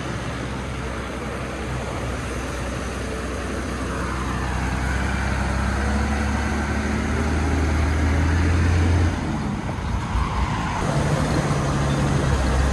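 A pickup truck drives along an Indian road, a steady close engine and road rumble holding strong and continuous throughout, with a heavy low drone that drops away near the end.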